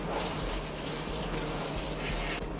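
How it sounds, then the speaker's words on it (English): Tap water runs steadily while clip-in hair extensions with a kinky texture are rinsed under lukewarm water, a soft continuous splashing hiss with no talk. "Rinse it out with cold water, with lukewarm water."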